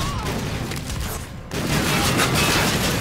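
Shotgun fire and dense combat noise in the video game Call of Duty: Infinite Warfare campaign, a loud continuous barrage of blasts that dips briefly midway and then surges back.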